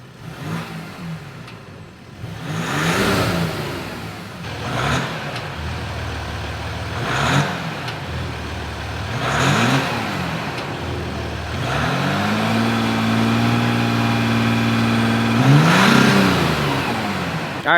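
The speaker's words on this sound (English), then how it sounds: "let's get it down, rev it up, see if it sounds any different" A 2021 Jeep Gladiator EcoDiesel with a 3-inch MBRP exhaust revs repeatedly from idle, each rise and fall of the diesel's groan distinct, then holds a longer sustained rev near the end; close and loud, no talking.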